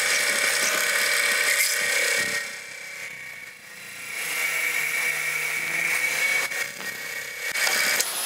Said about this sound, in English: I think I'm going to have to stick the reamer in there